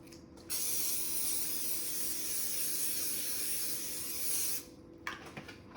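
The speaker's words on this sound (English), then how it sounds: "Give it a little spray." Spray bottle misting barbecue meat: a brief squeeze, then a long steady hissing spray lasting about four seconds, close and alone, ending with a few small clicks of the trigger.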